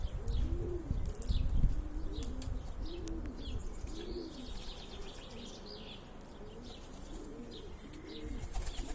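Pigeons coo in soft, repeated rolling phrases up close while one eats from a person's hand, with light chirps, rustling and a few wing flutters in the background.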